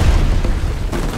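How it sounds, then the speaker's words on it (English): Heavy gunfire and booming blasts from the video game Uncharted: Legacy of Thieves come in a dense, loud burst with no pauses. "Just follow the sound of gunfire"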